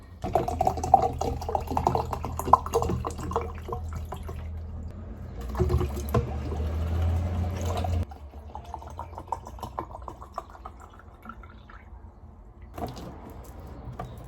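Water is poured into a container for chilled infused water before a run, a steady liquid pour running near and fairly loud, then easing off into softer trickling and light clinks toward the end.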